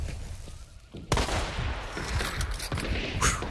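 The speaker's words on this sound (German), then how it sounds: "Sag mal, beschießen die sich da?" Gunfire exchange in the video game Hunt: Showdown, a sudden burst of shots starting about a second in, followed by repeated reports and rattling fire that continue throughout at moderately close range, with faint voice traces.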